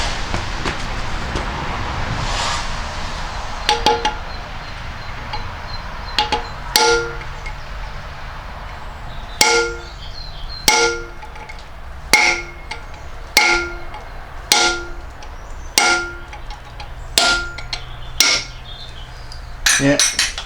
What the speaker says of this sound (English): give it a tap with a hammer